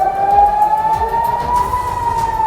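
An air raid alert siren wails across a small town in northern Israel, one sustained, slowly rising tone that stays loud and steady throughout, with traffic rumbling faintly beneath.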